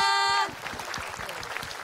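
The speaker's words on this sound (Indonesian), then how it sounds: "tepuk tangan dong buat Ustadz Maulana" An audience claps for Ustadz Maulana on an Islamic television talk show, with scattered, fairly light clapping following a brief electronic jingle tone, while voices mingle in.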